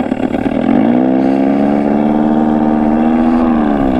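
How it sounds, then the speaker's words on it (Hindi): An Ola S1 electric scooter's vintage-style engine sound: a steady mechanical drone with a strong low hum, starting up and holding level like an old petrol scooter idling close by. "ये जो अपने पुराने वाले स्कूटर्स होते थे ना उसकी तरह साउंड करता है"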